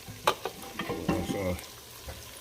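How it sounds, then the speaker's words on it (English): Sausages sizzle and spit in a hot pan, with a few scraping stirs and clatters of a utensil over the steady frying hiss. "Got my sausage frying."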